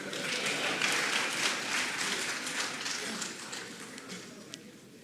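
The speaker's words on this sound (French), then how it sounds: "Applaudissez votre chef." An audience at a ceremony presenting a parchment to President Macron applauds the chief, a broad, dense wash of clapping that starts strong and gradually thins toward the end.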